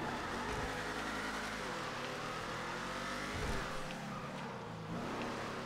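An Imponte Ruiner ZZ-8 muscle car in GTA 5 Online revs and accelerates, its engine climbing through gear changes with a dip and renewed rise midway, steady and loud with no talking.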